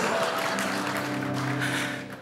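A church congregation gives scattered applause during a sermon, a soft, diffuse patter of many hands that fades out toward the end.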